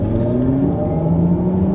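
A 523 hp electric race car accelerating hard in sport mode gives a loud, steady whirring drive roar that holds close and constant throughout the short burst.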